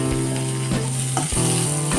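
Onions sautéing in a pan for tamarind semiya, a steady close sizzle with a few brief stirring scrapes and no voices.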